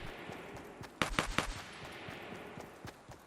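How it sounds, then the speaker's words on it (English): A rifle fires in Fortnite, a tight burst of three or four sharp, loud shots followed by scattered fainter gunfire in the distance. "We heard a rifle being fired, it sounded close"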